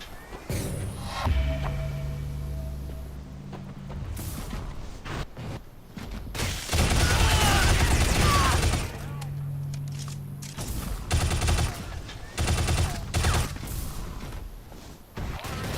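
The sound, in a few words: SMG gunfire from a skirmish in the video game Shadow Complex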